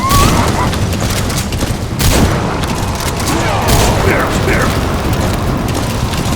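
Gunfire from the video game Metal Gear Solid V: The Phantom Pain: loud, dense bursts of shots and booms with mechanical clattering, continuous for several seconds in a busy battle mix.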